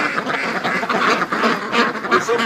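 A flock of ducks kept for breeding quacks continuously beside a frozen lake, close and fairly loud overlapping calls with no speech.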